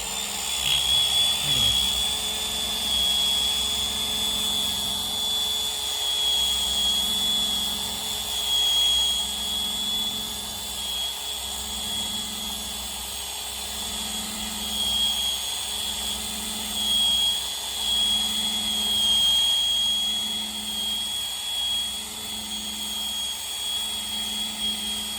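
A power tool spins an eraser-style wheel against a semi truck's IFTA sticker, giving a steady high-pitched whine with a low, rhythmic rubbing pulse as the wheel works the surface, continuous and close.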